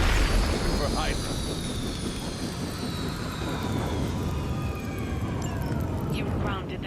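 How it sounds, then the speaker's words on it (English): Hydra helicopter being downed in the video game Marvel's Midnight Suns, a sustained whining engine roar with falling, sweeping tones, moderately loud with a voice over it. "You grounded the helicopter."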